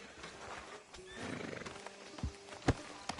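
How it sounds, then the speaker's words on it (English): A horse in Red Dead Redemption 2 whinnies and snorts nearby, with a few hoof clops and thumps following, fairly quiet overall with sharp brief knocks toward the end. "Can you grab Anders off your horse and carry him in for me?"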